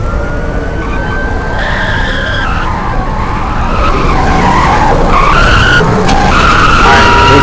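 Cars skid with long, loud tyre squeals in a player-made demolition derby in the Roblox game Greenville, the screeching sustained and layered throughout over a dense rumble of engines.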